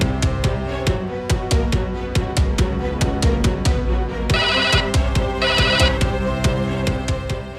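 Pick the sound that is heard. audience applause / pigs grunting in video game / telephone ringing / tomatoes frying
telephone ringing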